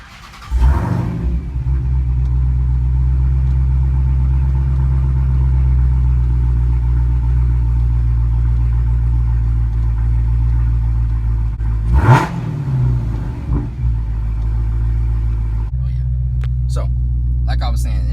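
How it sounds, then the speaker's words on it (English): A Dodge Charger SRT Hellcat starts with a sharp crank and bark, then settles into a deep, steady, loud rumbling idle, with a second blip of revs midway and a shift in tone near the end. "So let me go ahead and start the car up so we can see exactly what that does."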